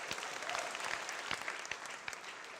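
An audience at a volunteer awards ceremony applauds the honored volunteers with continuous, moderately faint clapping and a few sharper individual claps standing out, no voices over it.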